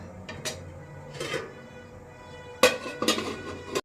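A metal lid is set onto a pot of rajma fried rice after hot water is added, giving a few sharp clinks and clatters against steady background noise, with no talk.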